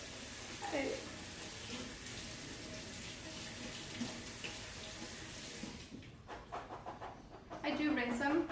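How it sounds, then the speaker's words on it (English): Water runs steadily from a kitchen tap over drained canned chickpeas being rinsed, with a louder splashing rush near the end as they are shaken, and faint talk in the background. "I do rinse them, give them a little shake."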